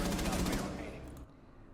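Rapid automatic gunfire in the Rainbow Six Siege video game, a short burst of close, fast repeated shots lasting under a second before it cuts off, with a brief quieter tail.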